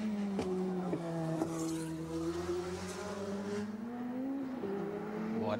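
A Ford Sierra Cosworth RS500 race car drones steadily at high revs as it descends toward Forest Elbow at Bathurst in 1988, captured by an onboard camera, with brief pitch dips at gear changes and no talk.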